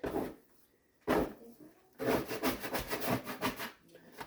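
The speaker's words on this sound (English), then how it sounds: "So I'm just going to scrape out as much as I can." Plastic scraper dragging sticky sourdough out of a container, short rubbing scrapes at first, then a run of quick repeated scraping strokes, close and moderately loud with no speech.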